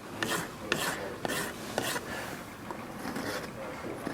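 A farrier scuffs the heels of an aluminum horseshoe to prepare them for gluing: a few distinct rasping strokes, then softer continuous scraping, quiet and close.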